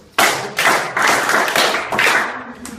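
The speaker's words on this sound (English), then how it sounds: "Clap for yourself." Several bursts of group clapping at a charity event in a school for the blind start and stop abruptly, each lasting about half a second to a second, loud and close.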